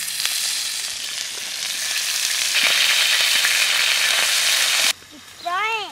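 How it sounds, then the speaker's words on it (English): Chicken omelette mixture fries in hot oil in a pan, giving a loud, steady crackling sizzle that cuts out abruptly near the end, followed by a brief high squeak and a return of sizzling. "It's frying."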